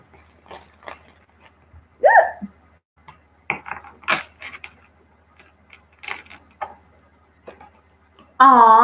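Tarot cards are shuffled during a live reading, giving scattered light clicks and riffling taps at close range, with bits of talk between them and a brief tonal burst at the end.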